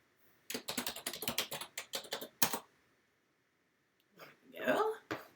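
Fingers type a password on a computer keyboard, a rapid run of close, crisp key clicks for about two seconds, then a pause and a short burst of voice.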